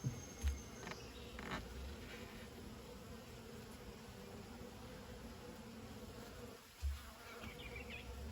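Honey bee swarm buzzing around hives in a backyard, a steady faint drone of many insects that carries on throughout, with a few brief bumps and no talking.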